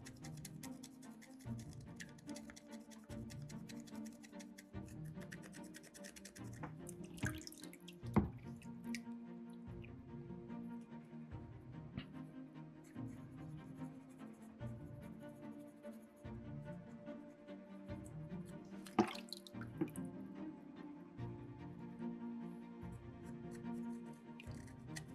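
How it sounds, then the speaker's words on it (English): Soapstone skull carving rinsed under a running tap, with a steady trickle and patter of water alongside irregular drips and splashes as the piece is turned in the stream, up close and without talking. "A lot of rinsing right now."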